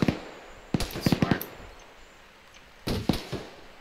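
Gunfire strikes a squad in a tactical shooter video game: a quick cluster of sharp pops, a pause, then a second burst of shots with a voice nearby.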